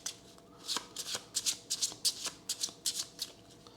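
A deck of cards is shuffled in the Dungeon Alliance video game: a quick series of crisp riffling flicks in an uneven rhythm, heard up close on their own.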